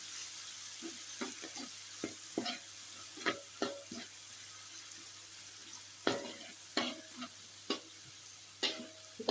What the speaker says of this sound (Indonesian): Ini kita tumis, kita aduk-aduk, ditunggu sampai harum pemirsa